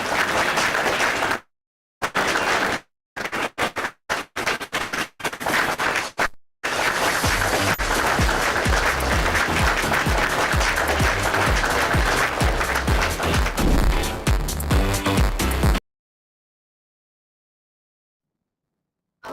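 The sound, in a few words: audience applause after a conference session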